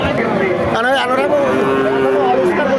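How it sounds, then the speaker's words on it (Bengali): A dairy cow at a busy cattle market gives long, wavering moos close by, over steady crowd chatter and nearby voices throughout. "সামনে একটা দেখতে পাচ্ছেন খুব সুন্দর গাভী দর্শক, একদম ফ্রেশ গরু।"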